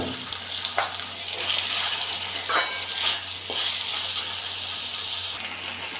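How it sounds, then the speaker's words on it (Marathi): Water is poured into a cooking pot of moong dal and potato curry, making a soft, steady splashing trickle at moderate distance, fairly faint and uninterrupted. "पाणी टाकून घेते"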